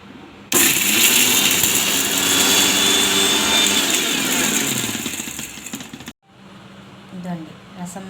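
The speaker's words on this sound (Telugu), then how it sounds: "ఈ మొత్తం ఇప్పుడు మిక్సీకి పట్టుకుందాం" A mixer grinder grinds dried red chillies and spices into rasam masala with a loud, steady whirring roar that runs about five and a half seconds, then cuts off abruptly, leaving faint background noise.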